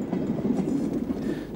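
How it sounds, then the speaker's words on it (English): A BR Standard Class 4 tank locomotive, number 80039, draws its train into Wadebridge station on the North Cornwall line. A steady, moderately loud rumble carries faint clickety-clack of the wheels, and no one speaks. "Number 80039 runs into Wadebridge to pick up a considerable number of passengers."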